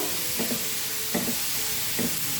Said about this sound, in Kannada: ಅದೇ ಪ್ಯಾನ್ಗೆ ನಾಲ್ಕು ಟೊಮೊಟೊನ ಕಟ್ ಮಾಡಿ ಸೇರಿಸ್ಕೊಳ್ತಾ ಇದ್ದೀನಿ ಇದನ್ನು ಚೆನ್ನಾಗಿ ಫ್ರೈ ಮಾಡ್ಕೊಬೇಕು